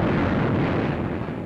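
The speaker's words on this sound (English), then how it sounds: "Thousands of tons of aerial bombs are rained upon Tarawa's waterfront and beachheads as the shore lights up like the crack of doom" Aerial bombs exploding along the Tarawa waterfront and beachheads in 1943 newsreel footage make a dense, continuous rumbling roar of blasts, loud and close for about a second and a half with no talk.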